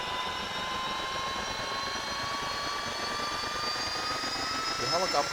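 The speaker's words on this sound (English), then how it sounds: "The helicopter will toss you around quite a bit as the rotor spins up." A Huey helicopter in DCS spins up its rotor after startup, a steady turbine whine with tones that slowly rise, running alone at moderate level.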